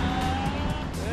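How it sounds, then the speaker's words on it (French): Cars move along a road below in Brisbane, a short, steady hum of traffic with a faint passing swish heard from a distance. "voir les voitures en fait bouger en dessous, c'est assez impressionnant"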